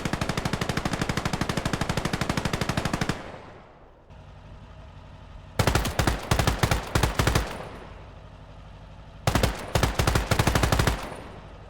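Heavy machine gun fire in a Call to Arms Gates of Hell World War II battle: a long unbroken burst, then two shorter bursts after quieter gaps, loud and close.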